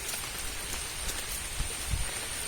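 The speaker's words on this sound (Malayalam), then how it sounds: "ചെറിയ ചാറ്റ മഴയുണ്ട്, ഇങ്ങനെ പെയ്തുകൊണ്ടിരിക്കുകയാണ്" Light drizzle falls steadily outdoors at the Kumarakom bird sanctuary in Kottayam, near backwaters, as a soft, even patter with a couple of slightly louder drops near the end and no talking.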